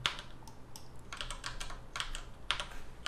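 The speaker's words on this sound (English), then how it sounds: "on the keyboard, I'm tapping quite a few keys" Keys on a computer keyboard are tapped in quick, uneven bursts of sharp clicks, close and fairly quiet against a low background hum.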